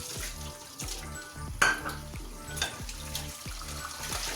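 Dishes are washed by hand under hot running water from a kitchen tap, the steady splash joined by occasional clinks of crockery, with a rhythmic music beat underneath.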